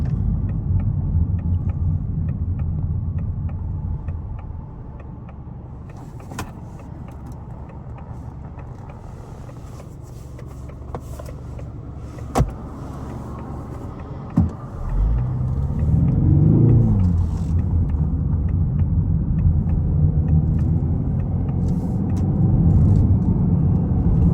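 A 2024 Ford Mustang EcoBoost with its 2.3-litre turbocharged engine drives on a road, giving a steady low rumble inside the cabin that swells as it accelerates into a bend, with a couple of sharp knocks along the way.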